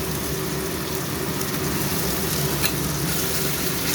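Ginger fries in a hot pan with a steady, dense sizzle and occasional stirring scrapes, close and constant with no talking.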